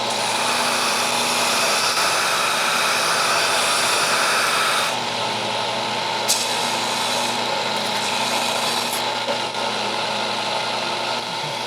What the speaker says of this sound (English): let's go use the belt sander a little bit